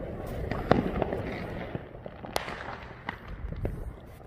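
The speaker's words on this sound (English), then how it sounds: "found a clip, some more fireworks." Fourth of July fireworks in 2020 burst in scattered, irregular pops and crackles at a moderate distance, with one sharper bang standing out among softer reports over a faint background hiss.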